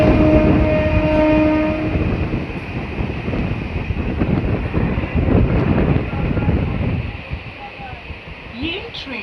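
A local train between Budge Budge and Naihati clatters along with a long horn blast at the start, then rumbling wheels and car noise under faint background voices, easing toward the end.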